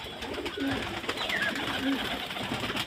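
Pet pigeons cooing at a home loft, a few soft low coos spaced apart over steady background noise.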